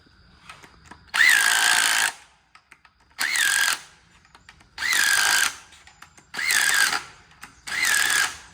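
A power tool drives bolts into the cylinder heads of a 5.3 engine being restored, five loud bursts of whirring impact about a second long each, separated by short quiet gaps with faint clinks.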